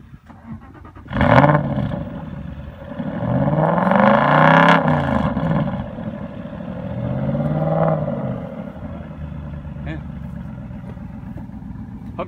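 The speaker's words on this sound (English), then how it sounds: "I just want to get a naturally cold start clip with the valves open" Aston Martin Vantage cold start with exhaust valves open at a British car gathering in the Ozarks, a sharp crank and bark followed by a roaring flare that settles into a loud, rumbling idle with small rev swells.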